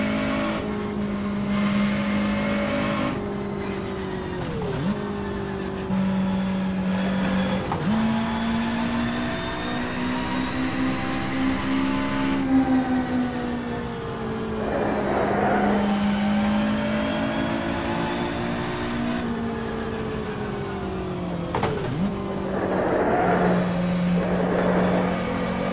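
A race car engine in rFactor 2 drones loudly and continuously, pitch rising through the gears and dropping at each shift, with brief tire scrubbing during hard cornering.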